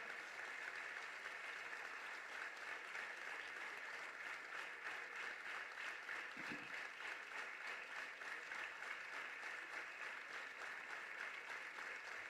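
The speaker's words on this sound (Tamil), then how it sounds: "ஒரு நிமிடம் நாம் இடைவிடாது அவருக்கு ஒரு கைத்தட்டு கொடுக்கணும்" Sustained audience applause fills a hall during a live political talk event, a dense even wash of clapping held steady for the whole stretch with no voices over it.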